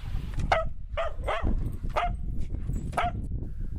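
Dogs on a farm bark in four sharp, evenly spaced yips about a second apart, moderately near, over a steady low outdoor rumble.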